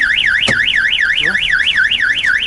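A Nissan Tiida's car alarm wails in a steady rising-and-falling tone, loud and continuous, with a sharp click partway through as the door handle is pulled.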